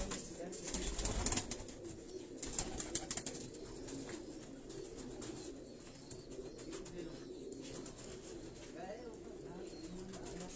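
A racing pigeon in a Karachi pigeon fancier's loft coos softly and repeatedly, faint and low, with someone talking over it and a few brief wing or handling noises.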